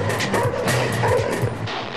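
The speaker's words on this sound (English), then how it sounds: "This dog will bark like crazy." A dog barks repeatedly during a training session, several loud, close yips and barks in quick succession over a busy background.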